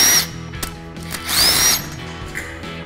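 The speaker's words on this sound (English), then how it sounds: "our next job is to remove the remaining bolts that holds the retarder module on the back of the main housing" Power tool spinning out bolts that hold the retarder module to the rear of an Allison transmission main housing, with two or three loud whirring bursts separated by ratcheting clicks and clanks, close up and with no talk.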